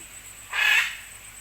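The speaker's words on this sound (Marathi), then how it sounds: "हा पोपट आहे, तो ओरडतोय." A single shrill parrot screech in an outdoor bird park, a short harsh burst of about half a second standing clearly above quiet background ambience, with no talking.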